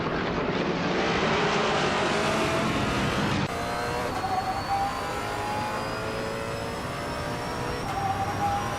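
A 1999 Audi R8C racing car in a video game roars loudly at close range, its engine note holding high then shifting after an abrupt cut to a steady whine with rising tones; no talk.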